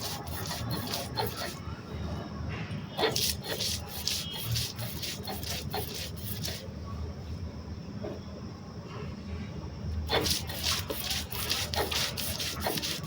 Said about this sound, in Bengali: তার জন্য ডাল বেটে নিচ্ছি পাটার মধ্যে।